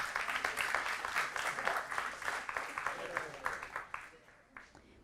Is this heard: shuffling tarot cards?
no